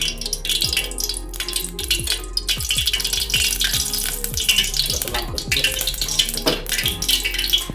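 Cooking oil spits and crackles in a pan for a Maharashtrian masala chicken biryani, set off by leftover water, giving a dense, steady sizzle with sharp pops throughout, close and loud.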